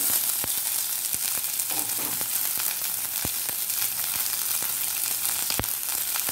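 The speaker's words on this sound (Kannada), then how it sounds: "ಶುಂಠಿ ಹಾಕಿ ಫ್ರೈ ಮಾಡಿಕೊಳ್ಳಿ" Ginger with curry leaves fries in oil in a pan for masala dosa filling, a steady close sizzle throughout with sharp intermittent clicks of a spatula and no voices.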